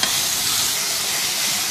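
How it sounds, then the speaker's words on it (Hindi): Marinated minced meat for bhuna keema fries in oil in a pan, giving a loud, steady sizzle with soft hissing and occasional stirring throughout. "मैरिनेट किया हुआ कीमा इसमें शामिल करेंगे और इसको अब 4-5 मिनट अच्छी तरह से भून लेना है।"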